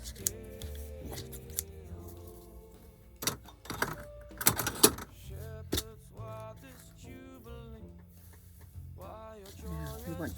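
Scissors snip through white Christmas ornament material in a few sharp, close cuts, set among handling rustles and steady background music.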